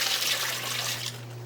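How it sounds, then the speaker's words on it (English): Water poured from an overfull cooking pan, a steady close splashing pour lasting just over a second and tapering off at the end. "Let me just dump out a little bit of the water"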